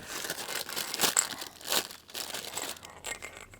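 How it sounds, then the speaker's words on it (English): Crinkly plastic rustling in a few bursts as a reflector disc is taken out of its packet, close and fairly quiet, with soft handling noises between them. "Let's get that out without rustling the packet"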